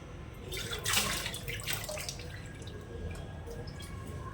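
A thin stream of water trickles and splashes into a bowl of batter, with faint dripping sounds that grow softer toward the end.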